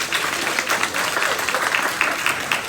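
An audience claps steadily at a live conversation event, a continuous wash of many hands close by with no voices over it.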